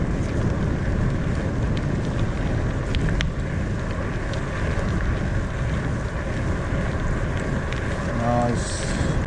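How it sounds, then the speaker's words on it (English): Steady wind buffeting the microphone while riding a Lapierre E Crosshill 5.2 electric gravel bike, a constant rushing roar with no pauses, loud and close throughout. "It's not too windy, although I can feel it whistling around my ears."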